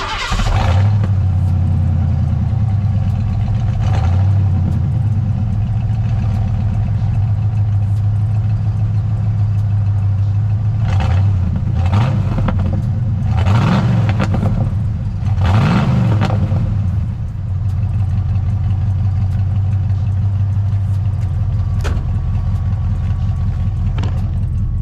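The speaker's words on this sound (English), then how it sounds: "let you hear that engine roar." A Foxbody Ford Mustang V8 with a massive exhaust leak, its H-pipe disconnected from the tailpipe on one side, idles loud and rough throughout, with several sharp bursts of revving and exhaust pops partway through.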